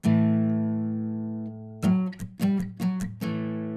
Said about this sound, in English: I'm playing muted notes in between all these chords.